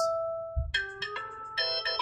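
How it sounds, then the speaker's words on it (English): The iOS 7 ringtone By the Seaside plays on an iPhone: a held bright tone, then a quick run of clear chiming marimba-like notes, loud and close with no voices. "And ringtones, you've got some new ones"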